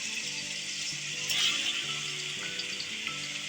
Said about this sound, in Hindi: अब मैं इसमें चिकन डाल दूँगी। ठीक है, और इसे हम मीडियम लो से कम फ्लेम पे फ्राई करेंगे